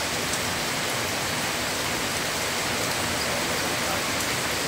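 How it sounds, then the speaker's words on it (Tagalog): Heavy rain in Makati falling in an unbroken roar, loud and close, with scattered drops spattering over the constant wash. "Ang lakas talaga ng ulan, guys."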